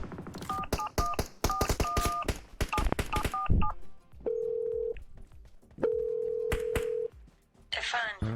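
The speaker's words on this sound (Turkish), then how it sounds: "Ben şu Çin'i bir arayayım arkadaşlar." Telephone keypad dialing: a quick run of touch-tone beeps followed by longer steady call tones, clear and close, with a burst of other sound at the end.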